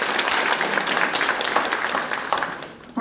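Audience applause at a Korean fishing-boat safety policy forum, a steady wash of many hands clapping for about three seconds, moderately loud and even, fading slightly near the end.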